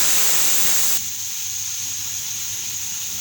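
Onions frying in hot oil with cumin and fenugreek seeds for a kadhi pakora, giving a loud steady sizzling hiss that drops to a quieter, even sizzle partway through, with no talking.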